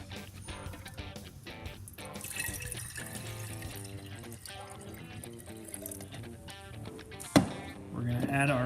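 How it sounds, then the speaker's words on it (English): Water is poured into a container to mix BigCorn300, a steady splashing, trickling flow close by with a sharper splash near the end, while people talk over it. "first we're going to add our water."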